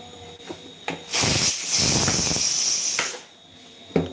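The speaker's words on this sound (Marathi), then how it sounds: "वाफ काढून घेऊ आपण आता याची थोडीशी" Steam hisses loudly from a pressure cooker of Khandeshi-style vegetable curry, one strong sustained burst of release lasting about two seconds, framed by softer clicks and kitchen sounds before and after.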